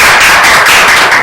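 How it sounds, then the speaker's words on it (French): Loud, dense applause from an audience at a live event with music, a continuous close wash of clapping that fills the whole moment without talk. "Ça s'applaudit, s'il vous plaît"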